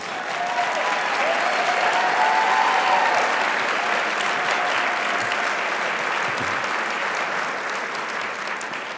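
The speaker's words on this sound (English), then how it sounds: "Please stand and be recognized with a round of applause." Sustained, full audience applause at an awards ceremony, dense clapping holding steady for several seconds with a faint voice early on, then easing slightly toward the end.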